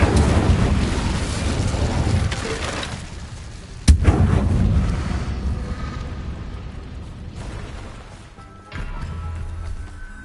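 Incendio fire spell cast in the video game Hogwarts Legacy, a loud rushing, crackling burst with a sharp crack partway through, set against a dense, rumbling game soundscape.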